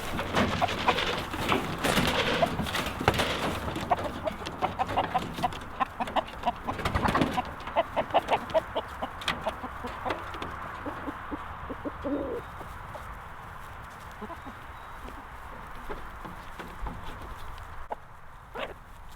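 Backyard homestead chickens being let out of their pen cluck and murmur in a loose, busy flock, several birds calling at once nearby, with scattered soft coos and squawks and a livelier burst early on before settling.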